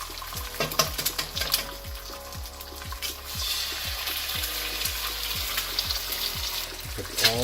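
Eggs sizzling in bacon fat in a pan for breakfast burritos, a steady close frying hiss with a repeating low rhythmic thumping throughout and a few sharper clinks early on.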